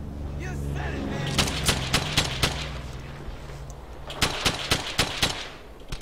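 Gunfire in Brothers In Arms Hell's Highway, a World War II shooter: two clusters of sharp, loud rapid shots, roughly five or six cracks each, separated by a short pause, over a rumbling battlefield with shouting voices.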